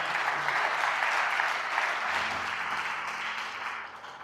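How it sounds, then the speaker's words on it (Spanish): A church congregation claps together for Christ during a Spanish-language service, a dense, steady wash of applause that holds loud throughout before thinning slightly at the end. "Dale un fuerte aplauso a Cristo y ponte de pie."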